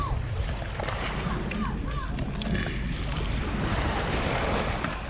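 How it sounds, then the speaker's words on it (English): Small evening waves breaking on a fishing beach at Pearl Harbour, a continuous wash of surf with gusty wind buffeting the microphone and a few faint bird-like chirps. "small waves just beating on the shore here, making a pleasant, nice to the ears"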